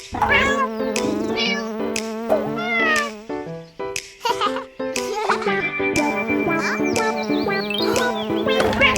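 A cartoon little cat meows in repeated, tuneful caterwauling calls over bright, busy children's music, loud and upfront with a brief buzzing effect in between.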